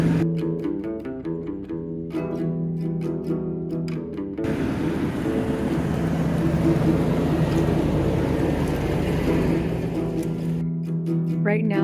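Heavy van climbing a steep gravelly mountain road, a loud, continuous engine drone with broadband tire and gravel rumble from inside the cab, and a voice talking over it at the start.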